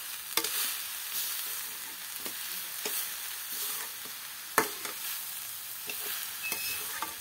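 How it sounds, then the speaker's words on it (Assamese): Grated coconut sizzles in a wok as a spatula scrapes and stirs it, with a steady frying hiss and sharp clicks of metal at irregular moments, close and clear with no voices. "নমাই লৈ এতিয়া মই ভাজিম।"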